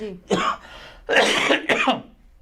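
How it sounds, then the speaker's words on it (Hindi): Several muffled coughs in quick succession, close by, dampened as if into a sleeve. "आप अपनी कोहनी में खांसें"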